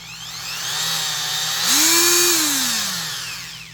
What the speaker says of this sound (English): As far as an oscillating tool, it's only a 3 degree, so not particularly aggressive, but it is a real narrow head.